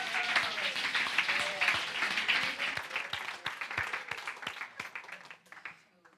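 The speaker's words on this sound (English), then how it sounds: "Can we give them another round of applause?" A church congregation at a Sunday service applauds, dense clapping that starts full and gradually thins and fades out over several seconds.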